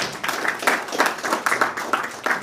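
An audience at a credit fund launch event in a hotel hall claps steadily, a dense, even patter of many hands sustained throughout with no voices over it.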